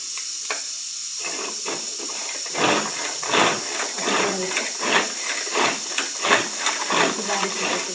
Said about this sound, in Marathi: तर आता मी तुम्हाला दाखवते थोडा कांदा बारीक करून.